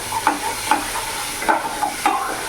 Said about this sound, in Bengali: ভালো করে মিশিয়ে নেবো আমি